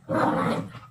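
Two dogs at playtime give a close, loud growling bark that rumbles for about half a second before tailing off.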